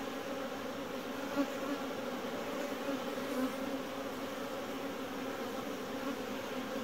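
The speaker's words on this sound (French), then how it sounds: "les abeilles sont belles" Many honeybees hum at a hive in a dense, steady drone close by, a continuous buzzing swarm with no voices.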